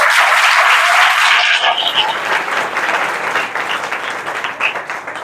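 A church congregation applauds loudly at a Hindi-language service, the dense clapping beginning strong and gradually thinning into scattered claps.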